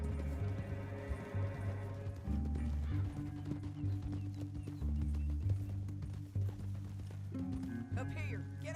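Horses gallop in a Western video game, the rapid clip-clop of hooves running steadily and fairly loud over a rumbling musical score, with brief speech near the end.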